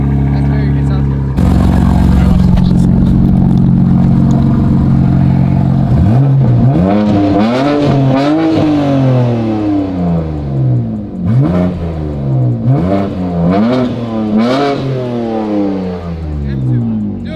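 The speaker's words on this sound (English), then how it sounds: "Start the car up" BMW M4 Competition engine firing up from a low idle, then revved repeatedly in loud rising and falling sweeps, close by, with people talking over it.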